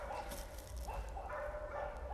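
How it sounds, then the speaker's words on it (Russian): Dogs barking at an abandoned pioneer camp outdoors, several short distant yips and barks repeating over steady wind-like background noise. "здесь есть собаки"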